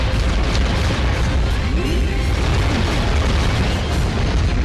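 Shooting attack explosions in the War of the Monsters video game, a dense, continuous roaring boom and rumble that stays loud and steady throughout with no voices.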